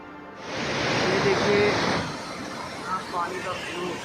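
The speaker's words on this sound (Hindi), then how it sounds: "पानी का फ्लो" Fast-flowing water from a swollen mountain stream on a Himalayan trek in Kinnaur, Himachal Pradesh, a loud, steady broadband rush that fills the whole clip, with faint voices in the background.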